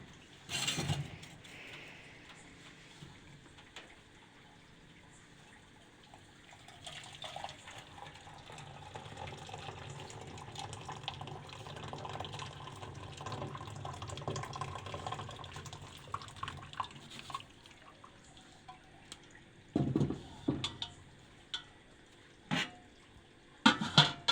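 Boiled avarampoo herbal decoction being strained after the stove is switched off: a soft, continuous trickle of pouring liquid with faint clinks of utensils and a few sharper knocks near the end.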